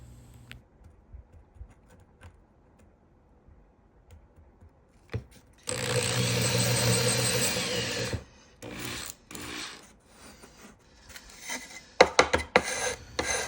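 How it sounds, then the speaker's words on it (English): A drill whirs in a short, steady burst lasting a few seconds, drilling holes in carbon fiber, surrounded by scattered clicks, scrapes and handling noises close by. "You put your drill bit down, you drill them."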